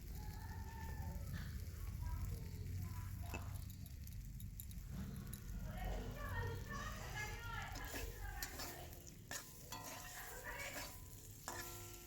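Ash gourd frying in a pan with a pinch of chili powder and a little turmeric powder, giving a steady sizzle with clattering stirring and utensil scrapes throughout, partly under a voice.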